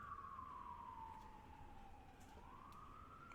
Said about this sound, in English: These are definitely New York sirens.